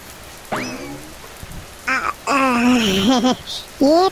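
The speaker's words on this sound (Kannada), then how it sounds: "ಇದೇನ್ ಅಂತ ಜೋರ್ ಮಳೆ ಏನ್ ಅಲ್ಲ ಕಣ್ರ" Light rain falls as a soft, steady patter in the background while several voices call out and wail loudly over it in short bursts.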